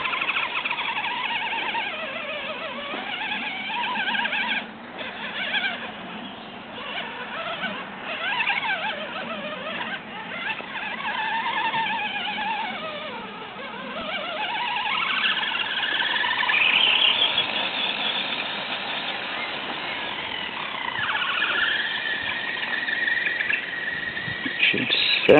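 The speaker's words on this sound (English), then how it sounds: "It should not be squealing like this." An FTX Kanyon RC crawler with a faulty setup gives off a persistent high-pitched squeal that wavers and sweeps up and down in pitch over a low drivetrain whir, close and moderately loud, no talking.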